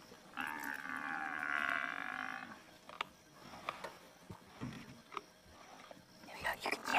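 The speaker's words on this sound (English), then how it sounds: "There we go, you can hear the bone crunch." At night, a lion feeds on a buffalo. A deep growl is followed by scattered sharp cracks and crunches of bone, fairly close and with voices nearby.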